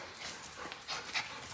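A small dog whimpers and pants in short, breathy bursts at close range while a harness is put on, with no talking and a steady faint hiss underneath.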